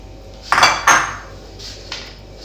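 A metal spoon clinks against a bowl as shredded cabbage goes into chana chaat: two sharp, close knocks in quick succession, then a couple of softer taps.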